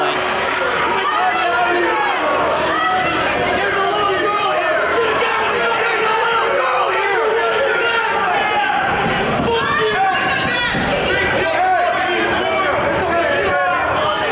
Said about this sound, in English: And the crowd is behind B-Boy.